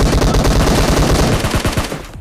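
Rapid automatic gunfire from the mobile battle royale game Battlegrounds Mobile India, a loud continuous burst of shots that tapers off near the end.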